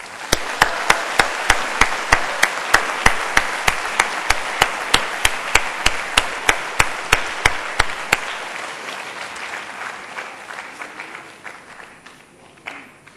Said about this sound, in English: please join me in showing our appreciation for our lecturers and parents by giving them a round of applause